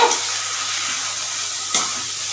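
Spiny gourd and green chillies fry in a pan with a steady, close sizzle, broken by a soft scrape and clatter near the start and a sharper stir-clank toward the end; no talking.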